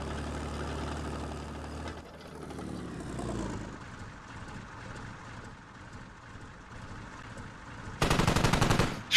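Gunfire in the military shooter Squad, with bursts of automatic fire under a rumbling engine-like drone, then a loud, dense volley of rapid shots near the end.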